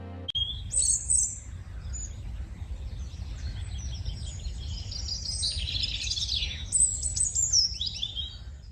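A myna bird chirps in a Hindi cartoon story, with bright, high twittering calls near the start and again around the middle to the end, heard alone over a low, steady background hum.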